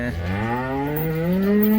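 A single cow or buffalo gives one long, loud, close moo that rises steadily in pitch, at a dairy farm expo where Jersey and HF heifers are being readied for competition.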